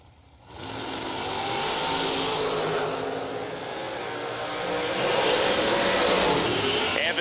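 Drag race cars with mechanically injected and single-carb big block Chevy alcohol-burning engines roar loud and sustained, a broad engine blare building as they run down the strip with no talk over it.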